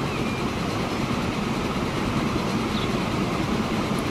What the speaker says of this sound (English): We're all clear to go past that train.